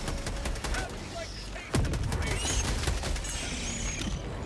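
A sentry turret fires in Helldivers 2, rapid bursts of gunfire rattling amid the chaos of battle, with a heavy report around the middle followed by sustained automatic shooting.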